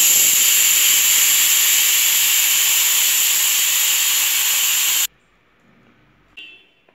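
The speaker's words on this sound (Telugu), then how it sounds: "స్టవ్ ఆఫ్ చేసి ఇప్పుడు విజిల్ తీసుకొని చూద్దాం." A pressure cooker's whistle is lifted and steam rushes out in a loud, continuous hiss for about five seconds, then cuts off abruptly, leaving near silence with a faint brief clink.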